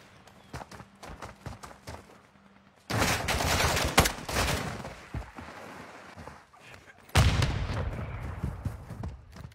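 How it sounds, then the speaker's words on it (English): Video-game gunfire in a live-streamed competitive match: scattered sharp shots early, then two long, loud bursts of rapid fire with overlapping volleys and a single crack between them. "See, they're shooting him in that building."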